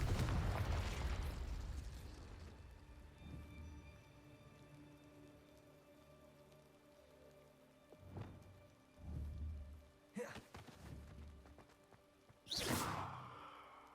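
The Confringo blasting spell from a Hogwarts video game, a series of muffled blasts and rumbles with a sharp crackling burst near the end, set against a faint hum and with no voices.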